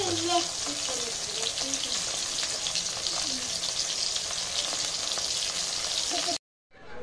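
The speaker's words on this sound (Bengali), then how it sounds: "এই যে মাছ ভাজা চলছে।" Fish frying in oil, a continuous crackling sizzle at moderate level with faint voices now and then, cut off abruptly near the end.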